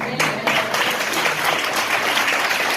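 An audience at a church message applauds, a dense continuous clapping that holds steady for a few seconds.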